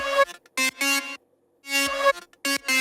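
A buzzy, harmonically rich synth tone from Serum wavetables plays in short separate stabs, some held briefly, with gaps of silence between phrases.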